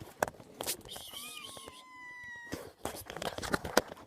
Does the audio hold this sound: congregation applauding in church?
no